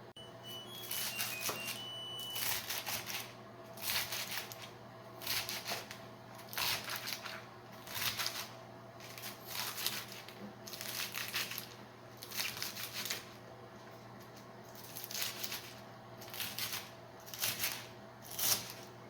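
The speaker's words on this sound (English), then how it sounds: "And then cut the lettuce." Lettuce chopped with a knife on a cutting board in a home kitchen while making a salad; a long run of brisk, fairly faint taps and crunchy cuts coming in uneven bursts, close by, with no talking.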